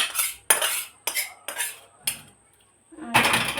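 Cooked curry is poured from a metal pot. A ladle scrapes and clinks against it in several sharp, close bursts, then rattles more densely at the end.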